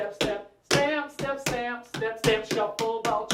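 Tap shoes strike a hard floor in a beginner tap dance lesson, a series of sharp, close taps and stamps falling in an uneven rhythm of quick pairs and single hits, clear and alone without voices.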